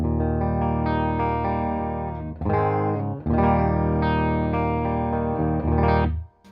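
Standard Telecaster played through a Fulltone OCD or Plimsoul overdrive pedal into a Fender Deluxe Reverb amp with a hint of reverb, sustained distorted chords ringing loud and close in several strummed phrases.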